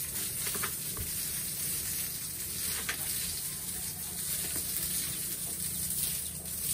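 Gravity-fed hose water gushing steadily while washing 50-day-old farm animals on low-lying ground, a continuous close splashing rush with faint irregular knocks.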